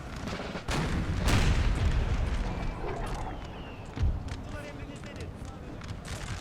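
Canister shot artillery fire in the Napoleon Total War video game, deep booming blasts and rumbling impacts layered with distant gunfire, heavy and continuous, with a sharp boom near the end and voices talking over it.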